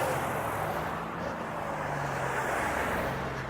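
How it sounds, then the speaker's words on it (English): Steady road noise from cars passing at a distance, a constant low hiss and hum with no talking. "back on Cole Road again, you can hear the cars."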